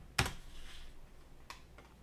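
Computer keyboard keys and mouse clicks sound sparsely while values are entered, one crisp close tap followed by fainter clicks in a quiet room.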